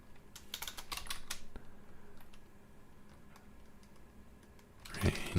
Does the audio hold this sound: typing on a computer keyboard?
yes